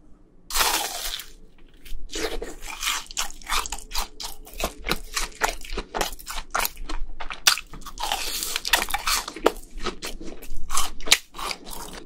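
Close, crisp crunches as BHC Bburinkle cheese balls are bitten and chewed, a steady run of sharp crackling bites one after another with no talking.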